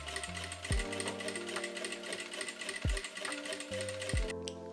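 A sewing machine runs in short bursts, stitching a folded fabric strip 2 cm wide for a drawstring 5 mm from the edge, with a steady mechanical hum broken by several thumps and pauses as the fabric shifts.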